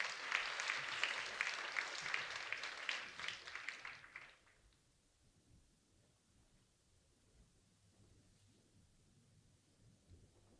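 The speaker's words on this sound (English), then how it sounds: "Round of applause." A round of audience applause at a breakfast event, moderate clapping for about four seconds that stops abruptly, followed by quiet room tone.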